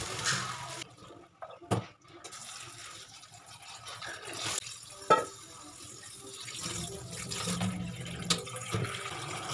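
Water runs and splashes steadily while the soaking water is changed on a pot of boiled, swollen soybeans in a home kitchen during tempeh making, with a few louder clatters along the way.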